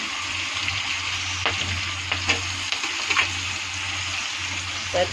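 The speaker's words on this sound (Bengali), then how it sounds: "একটু ভালো করে লাল লাল করে ভেজে নিই।" Green chilli, cumin, chopped onion and garlic fry in a pan with a steady close hiss, broken by occasional scrapes and taps of stirring.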